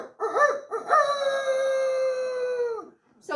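A person's voice imitates a rooster crow: a couple of rising notes, then one long, loud, drawn-out call that drops off at the end.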